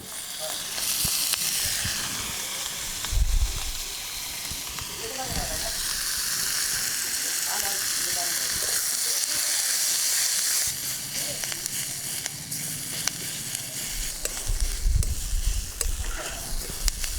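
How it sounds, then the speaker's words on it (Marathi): Onions sizzling and roasting in oil in a kadhai, a steady close hiss of frying that runs on throughout, with a few faint stirring scrapes. "तर आता अशा प्रकारे हा कांदा भाजून झालेला आहे लालसर"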